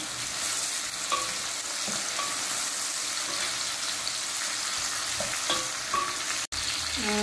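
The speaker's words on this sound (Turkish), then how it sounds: "Bir tur karıştıracağım" Peppers with grated garlic sizzle and fry steadily in a pan for a breakfast dish, with a few clinks of a spoon stirring throughout and no one talking.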